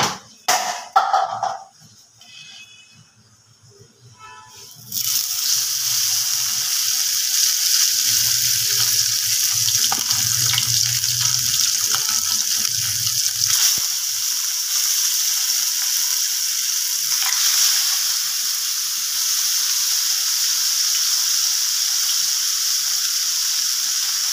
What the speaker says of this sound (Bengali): তো তেলটা গরম হয়ে গেছে, মাছগুলোকে আমি ভেজে নেব